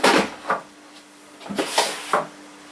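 Workshop drawers being pulled open and pushed shut, a series of clunks and sliding knocks close by, two bursts with a short pause between them, with no talking.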